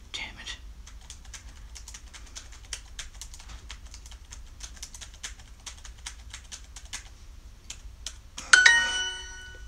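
Rapid typing on a computer keyboard during a language-learning exercise, a steady run of light clicky keystrokes over about eight seconds, closing with a brighter chime-like electronic tone.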